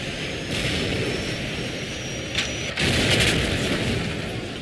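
Gunfire and explosions from the Call of Duty 4 video game: a dense wall of shooting with a few sharper booming bursts over a continuous rumble of battle noise.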